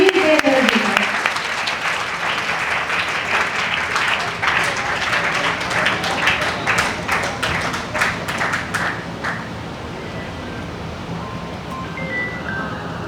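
An audience at a youth event in Varanasi gives Sunil Deodhar a hearty round of applause. The dense clapping is loud at first, then thins and fades out after about nine seconds.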